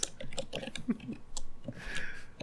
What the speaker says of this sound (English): He's just typing out ways that they could do it right now.